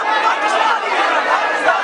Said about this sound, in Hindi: कश्मीर के अंदरूनी इलाकों में देखते ही देखते जमा हो जाती है हजारों की भीड़